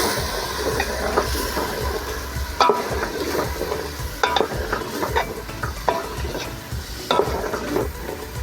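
Ground roasted coconut masala for a North Karnataka country chicken curry frying in a pan, a dense close sizzle with repeated clattering stirs and scrapes throughout.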